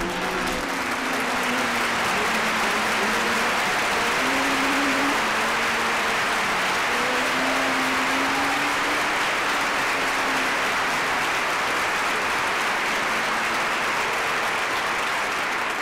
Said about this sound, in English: Nice round of applause for your winner